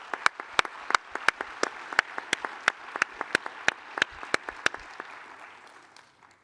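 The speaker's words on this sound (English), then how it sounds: "I think you deserve all a great round of applause." Applause at a congress welcome ceremony, a thinner sparse clapping with distinct sharp claps in an irregular rhythm, steady and then fading toward the end.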